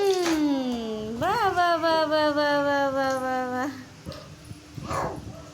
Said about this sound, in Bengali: কে ডাকছে মা ডগ ডাকছে